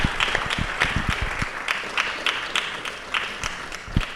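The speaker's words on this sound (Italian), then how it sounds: "Un applauso" An audience at a cultural talk about Torcello applauds with steady, moderately close clapping that runs throughout and tapers slightly toward the end.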